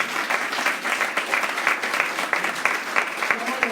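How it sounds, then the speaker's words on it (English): Audience applause at the Nexus Education Awards 2020 for a big award, moderately loud and steady with distinct individual claps from a modest crowd, lasting throughout with no speech over it. "I think we also need to give a round of applause to this wonderful big award for him."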